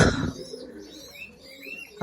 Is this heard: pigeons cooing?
yes